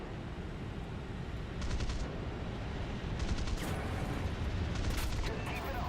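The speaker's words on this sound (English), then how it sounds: "Oop, getting a little bit of machine gun fire." Bursts of machine gun fire rattle over a steady jet-engine roar in the War Thunder air simulator battle, F3D-1 Skyknight, arriving in short clusters at a moderate distance.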